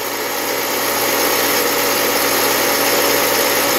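A Frankford Arsenal Case Trim and Prep Center trims a brass case with a loud, steady motorized whir that holds constant throughout, close up and with no speech.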